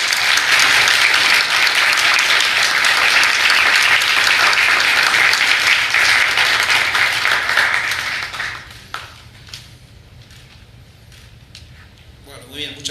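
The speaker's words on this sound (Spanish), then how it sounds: "Y por supuesto le damos un gran aplauso" An audience at an economic research award presentation claps loudly and steadily for about eight seconds, then the applause dies away to scattered claps and room noise, with a voice speaking faintly.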